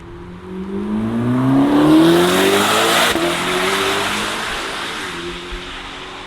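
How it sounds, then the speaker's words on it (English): A Chevrolet Corvette ZR1 with a turbocharged engine and track performance package roars past, its loud exhaust note rising as it accelerates, peaking near the middle and then fading steadily as the car pulls away. "that exhaust note is strictly because of the turbochargers"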